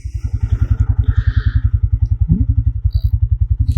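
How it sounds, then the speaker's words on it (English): Big old Bigfoot tractor engine running at a tractor museum, a loud, steady low chugging with fast even firing pulses throughout, with brief clatter and a faint higher whine over the thump. "that's this tractor in action"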